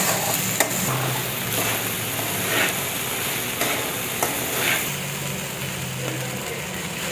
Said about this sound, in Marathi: साबू टाकल्यानंतर लगेच आता हे परतून घेते।